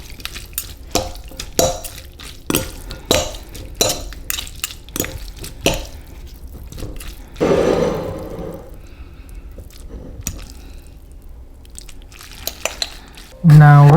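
Instant noodles being stirred together with oil, seasoning powder and sriracha sauce in a bowl, with repeated soft scraping and clinking strokes at a steady rhythm, a louder rustle midway and a thump at the end.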